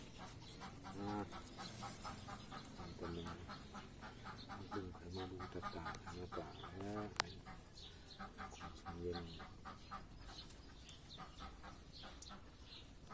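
Ducks quack repeatedly in bursts, fairly close, mixed with other fowl clucking and some voices in the background.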